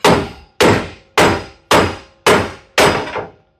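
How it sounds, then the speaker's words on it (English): Six loud, evenly spaced metal hammer blows strike vice grips clamped onto a seized NXG through-frame slide rack arm, each sharp impact ringing and decaying before the next, close and with no talking. "a large pair of vice grips clamped onto it and then start hitting it"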